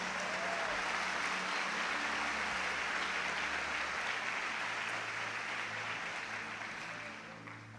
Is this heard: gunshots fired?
no